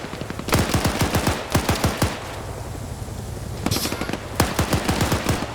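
A rooftop DShK heavy machine gun fires in a video game match, in loud, close bursts of rapid shots with a short pause between the second and third bursts.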